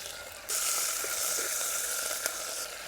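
Cumin seeds, garlic and chillies crackling and sizzling in hot oil for tempering, a sudden steady hiss that starts abruptly and holds with small pops throughout, no voices.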